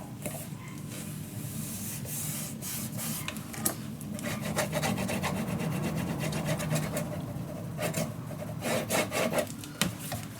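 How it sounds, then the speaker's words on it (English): A tool rubs firmly over paper on a steampunk Christmas letter craft piece, producing steady scratchy back-and-forth strokes that are close and moderately loud, with no talking. "Okay, burnish it down."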